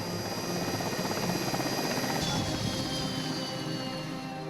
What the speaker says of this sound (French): l'hélicoptère avec les otages arrive